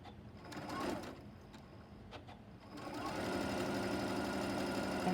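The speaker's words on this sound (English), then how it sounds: "We want to sew a different line this time." A sewing machine stitches a seam across a quilt block for a maple leaf pattern, running in short bursts at first, then settling into a steady, continuous close-up whir for the last couple of seconds.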